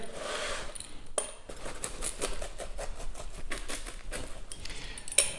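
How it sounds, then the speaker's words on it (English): A pizza cutter rolling through a freshly baked pizza with a crispy crust to cut it into four, a close, steady scraping crunch with a few sharper clicks. "all I need to do now is to cut it into 4 using my pizza cutter here."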